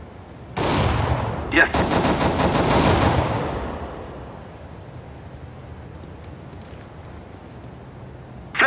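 Gunfire in a video game erupts as a sharp burst and rolls on for a few seconds, then fades into low ambience while a voice speaks briefly.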